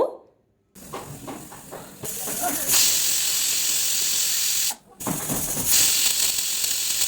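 A pressure cooker holding cabbage lets off loud, hissing bursts of steam as it whistles, with two long blasts separated by a brief pause.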